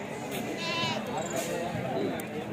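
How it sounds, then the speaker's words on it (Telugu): Goats and sheep bleat at a crowded livestock market, with overlapping calls and people talking nearby throughout. "నల్ల మేక పోతులు చూడవచ్చు"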